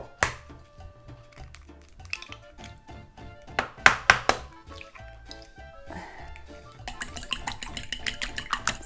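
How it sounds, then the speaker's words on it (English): Eggs are lightly whisked in a bowl while chicken fried rice is being prepared. Quiet clinks and knocks of utensils come first, then a quick, regular run of light ticking strokes close by. "So we're just gonna give it a light whisk"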